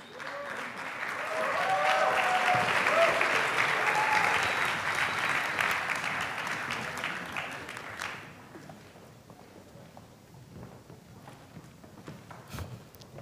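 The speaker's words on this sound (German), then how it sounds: "Ganz großer Applaus." Applause from an audience at a German award-night ceremony, swelling to a strong, sustained clapping for several seconds, then tapering to scattered claps and faint murmurs.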